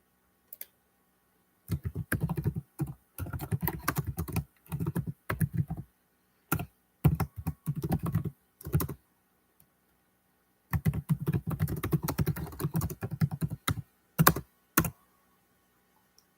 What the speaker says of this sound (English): I'm typing those fights.